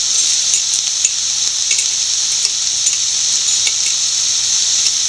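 Spinach thoran with grated coconut, turmeric, salt and onion being stirred in a hot pan, a steady bright sizzle with faint scraping taps of the spoon throughout, no talking.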